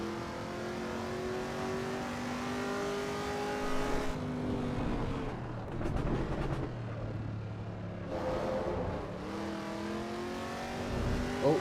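Race car engine in the Assetto Corsa EVO racing game on the Imola circuit, revving hard through gear changes with rising and falling pitch, brief downshift bursts and tyre scrub, loud and continuous with no talking.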